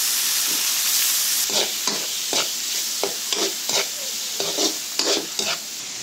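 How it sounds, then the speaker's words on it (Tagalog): Garlic, onion and ground meat sautéing for Filipino-style spaghetti sauce: a close, steady sizzle with a run of sharp, regular spatula scrapes and stirs in the second half. "magisa ta og bawang, sibuyas, and then asa na to ibutang atong giniling."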